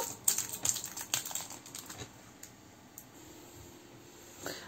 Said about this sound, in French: Alors, si j'arrive à le déballer, évidemment.